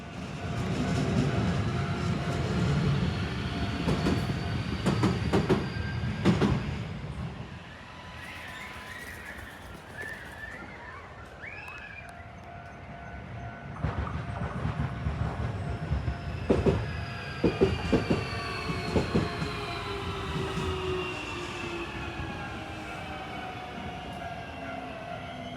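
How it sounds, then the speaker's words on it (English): A standard commuter train rolls past a park bench in Japan, loud rumble and wheel clatter rising and falling over about 25 seconds, with a brief lull in the middle before another surge of rail noise. "Just another standard train."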